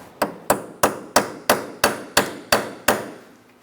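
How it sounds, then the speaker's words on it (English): A hammer taps a rusty rear lower control arm part into place on a 2004-2009 Mazda 3, with nine evenly spaced, sharp metallic strikes, close and loud, each ringing out briefly before the next. "Ours is a little rusty, so we're going to tap it in there."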